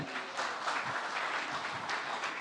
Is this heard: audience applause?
yes